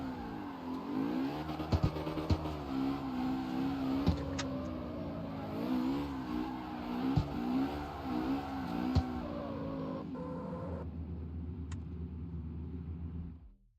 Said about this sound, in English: This car is not tuned to drift.